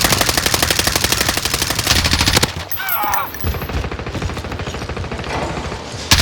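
Rapid automatic gunfire in the video game Call of Duty: Modern Warfare rattles in a loud, fast, even stream, breaks off, then resumes in quicker bursts, with a faint voice in between.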